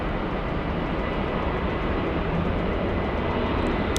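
A Southwest Airlines airliner moving at LAX gives a steady broadband engine roar that holds level throughout, with no voices.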